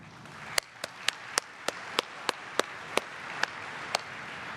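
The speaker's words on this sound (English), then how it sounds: "Let's give them applause" About a dozen sharp, evenly spaced hand claps ring out during the ICML 2019 conference opening, slow and distinct rather than a dense crowd roar, with a faint room hiss between them.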